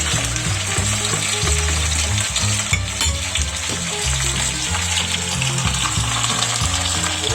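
Tenderized goat meat for kalderetang kambing sizzles loudly in a pan, a dense continuous frying hiss with stirring underneath, close and steady throughout with no talk.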